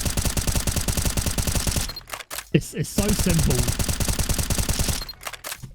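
M4A1-S silenced rifle firing a long rapid spray in CS:GO, a fast even train of suppressed shots that breaks off briefly and resumes, with someone talking over part of it.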